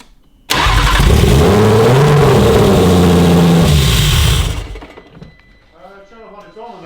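An Audi RS3 with a swapped VR6 engine cranks and fires abruptly, revving loudly for a few seconds with a rising and falling drone before cutting out, followed by quieter background voices.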